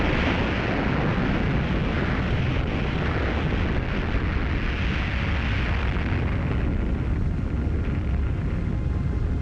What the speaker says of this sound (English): Operation Crossroads, conducted at Bikini Atoll, detonated 2 bombs.